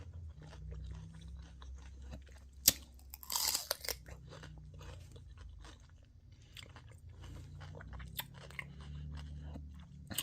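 Raw celery dipped in ranch is chewed close up with wet, crunchy bites and steady mastication, including one sharp snap early on, all fairly quiet and without talking.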